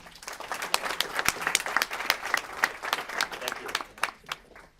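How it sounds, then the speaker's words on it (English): An audience welcomes speaker Jim Hynes with moderately loud applause in which individual sharp claps stand out as a loose, uneven patter that tapers off near the end. "let's give him a round of applause"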